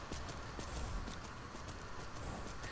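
Horse hooves in The Elder Scrolls V: Skyrim clop faintly and steadily as the horse climbs a mountain slope, set under a low, constant background hum.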